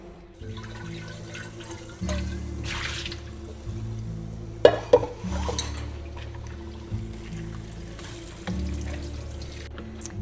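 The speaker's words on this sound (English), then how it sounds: "I like to rinse them a second time before I put them in the pot" Potatoes from a 5-pound bag are rinsed a second time in water in a home kitchen, giving intermittent splashes and sloshing with a few sharper drips over a steady low background hum.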